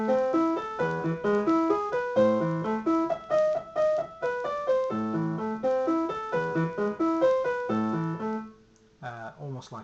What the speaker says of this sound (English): If you didn't play with pedal, it would sound like this.